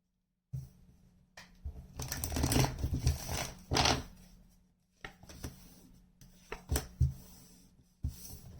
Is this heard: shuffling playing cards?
yes